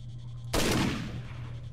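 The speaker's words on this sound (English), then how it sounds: "Oh, it's a shotgun?" Single shotgun blast in the video game S.T.A.L.K.E.R.: Shadow of Chernobyl, a sharp loud burst with a short decaying tail over a low steady hum, no talk.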